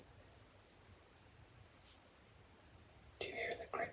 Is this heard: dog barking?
no